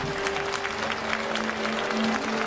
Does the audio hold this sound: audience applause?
yes